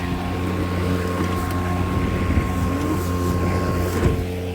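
A Greenworks 60V 22-inch self-propelled battery lawn mower cutting grass: a steady, close motor hum with a constant tonal whine and a low whirring drone, joined by some wind noise.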